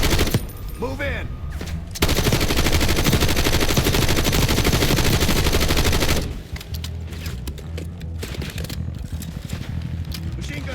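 Sustained machine gun fire from a Black Ops 6 game battle, loud and dense for about six seconds, then easing into scattered shots and rumbling combat noise.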